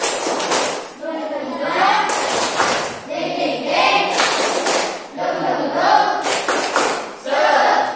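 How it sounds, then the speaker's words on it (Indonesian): Schoolchildren in an Indonesian classroom lesson perform a rhythmic spirit clap, with bursts of patterned group clapping mixed with loud chanting voices that come in repeated phrases, close and energetic. "Mana tepuk semangatnya?"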